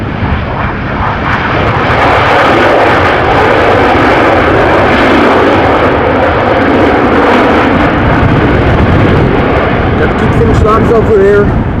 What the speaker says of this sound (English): The old standard livery with the rainbow stripes, arriving from Copenhagen, flying as KLM flight 1126.